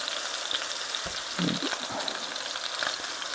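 Chicken breast searing in a pan without butter, a constant close crackling sizzle with a few brief louder pops, heard alone without talk.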